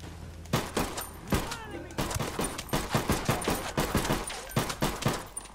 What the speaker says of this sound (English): that is what you call a gunshot